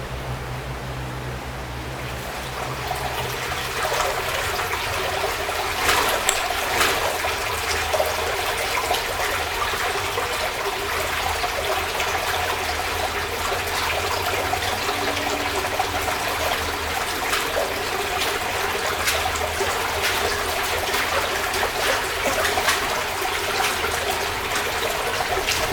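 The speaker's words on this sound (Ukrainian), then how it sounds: "Місцями вода виходить у цегляні тунелі. Ця річка протікає під історичною частиною міста." An underground river flows through old brick tunnels beneath the historic part of Kyiv, giving a steady echoing rush of water with soft trickles, continuous and moderately loud.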